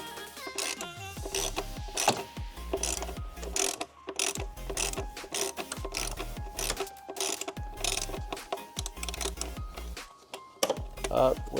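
Ratcheting clicks and tool rattles come from removing T25 screws on a plastic piece of a BMW N55 335i engine, with dense mechanical clatter throughout and talk mixed in.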